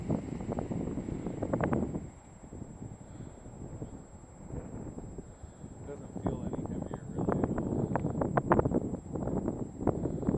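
Wind buffeting an outdoor microphone at a foam board model airplane flight, a faint rumbling rush that gusts up and down throughout, with voices speaking under it.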